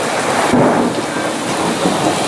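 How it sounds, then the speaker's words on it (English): Afternoon thunder shower pouring down, steady heavy rain hiss with a low rolling thunder rumble swelling near the middle, loud and close with no voices. "Some pretty good thunder showers passing through this afternoon."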